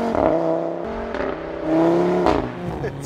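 Audi RS3 Sportback with sports exhaust pulls through gear changes, the engine note dropping at each upshift with a short burbling crackle before rising again, loud and close with no talk.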